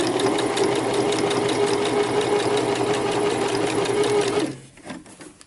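Sewing machine running a steady, fast stitching buzz for about four seconds after its thread tension was adjusted, then stopping abruptly, leaving a few faint clicks.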